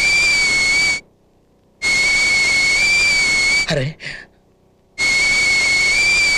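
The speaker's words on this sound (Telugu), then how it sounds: "ఏ పొయ్యి మీద కుక్కర్ ఏమైనా పెట్టావా?" A pressure cooker whistles in loud, sustained steam blasts, three long shrill bursts separated by brief silences, with a short exclaimed voice in one gap.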